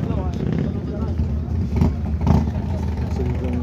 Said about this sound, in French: Les bruits, c'est des motos Harley, ne vous inquiétez pas, c'est pas des voitures.